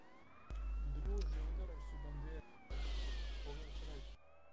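A police car siren wails during a roleplay video game, loud and close, with its pitch sweeping up and down under overlapping voices of players talking over it.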